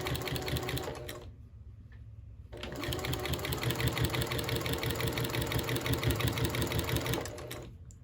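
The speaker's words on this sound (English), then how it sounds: "just keep on sewing at that 1/4 inch seam allowance" Sewing machine stitching a quarter-inch seam on a fabric mug rug, a fast steady mechanical whir that runs briefly, pauses, then resumes for several seconds close by before stopping, with no talking.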